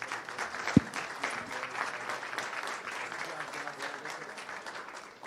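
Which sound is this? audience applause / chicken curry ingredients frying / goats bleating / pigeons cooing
audience applause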